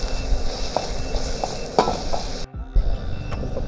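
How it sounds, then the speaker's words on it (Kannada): Tomatoes frying in a pan at a lakeside camp, heard as a close crackling sizzle with scattered utensil clinks and scrapes and a brief drop near the end. "ಟೊಮೆಟೊ ಹಾಕೊಂಡು ಸ್ವಲ್ಪ ಫ್ರೈ ಮಾಡ್ಕೊಳ್ಳೋಣ."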